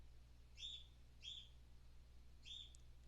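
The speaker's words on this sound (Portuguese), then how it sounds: "Tem a trilha sonora da calopsita." A pet cockatiel gives three short, bright chirps, evenly spaced and fairly faint, over a low steady indoor hum with no talking.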